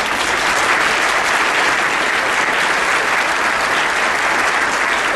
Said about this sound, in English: applaud them, please.